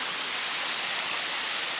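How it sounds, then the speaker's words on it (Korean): Water from a forest stream, hidden beneath dense woodland cover on a mountain trail, rushing as a steady, even hiss that fills the whole moment without voices. "개울은 전부가 그냥 숲으로 덮여 있어가지고 개울인지 뭔지 구분이 안 돼. 물소리만 납니다."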